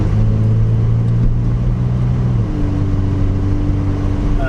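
A Kia Stinger with its bimodal exhaust set to loud revs from close by, a deep steady engine drone that shifts pitch partway through.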